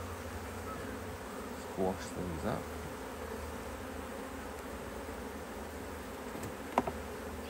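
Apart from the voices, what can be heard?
honey bees buzzing in a swarm hive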